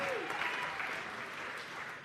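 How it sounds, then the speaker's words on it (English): A studio audience claps and cheers in a brief, steady burst of applause, close and full. "Give me a cheer."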